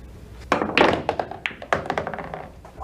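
Pool balls knocking together during a game of pool, a string of sharp close clacks and thunks, with a few louder hits followed by lighter taps.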